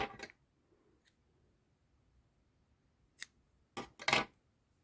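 Scissors snip off crochet yarn after a slip stitch on a spiked flower: one quick crisp cut at the start, then a pause and three more sharp close snips near the end, with no talking.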